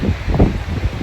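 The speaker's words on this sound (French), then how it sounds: "Il y a beaucoup trop de vent." Strong wind buffets the microphone on a cliff top at Cefalù, Sicily, a steady loud rumbling roar with gusty swells and no talk.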